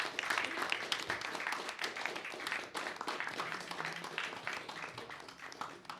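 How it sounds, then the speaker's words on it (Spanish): Audience applauding a book-presentation panel, dense steady clapping from a crowd that fills the whole stretch at an even level, with a few voices faintly mixed in. "Un aplauso al panel de la mesa"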